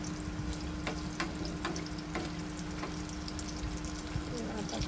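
Puris frying in oil over a low gas flame: a steady, close bubbling crackle with scattered sharp pops and clicks running continuously throughout.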